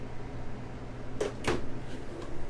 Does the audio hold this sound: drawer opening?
yes